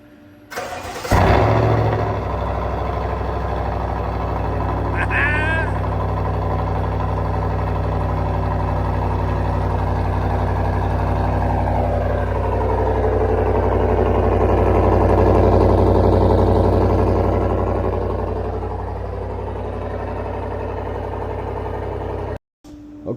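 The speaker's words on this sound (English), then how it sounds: "here comes the first cold start." A 2019-2022 GMC 1500 pickup with a 5.6 V8 and Borla S-Type cat-back exhaust cold-starts with a sharp crank and burst, then settles into a loud, steady, rumbling idle that swells briefly before cutting off.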